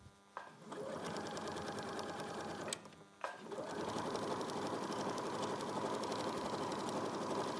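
A sewing machine stitches a 1 centimetre seam allowance around a neckline, its steady close whir running almost continuously, broken by two brief stops near the start and then carrying on alone.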